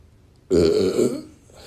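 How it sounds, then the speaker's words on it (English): A single loud, drawn-out human burp lasting under a second, close and prominent against a quiet room, trailing off into faint background noise. "That was a nice burp."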